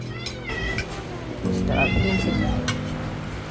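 A cat meows a couple of times, drawn-out and nearby, over a steady background hum and some speech.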